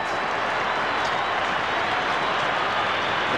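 A football stadium crowd roars after a goal in a 1997 Richmond versus Fremantle match, a dense, steady wash of cheering and applause heard from a distance that holds at a constant level for the whole clip.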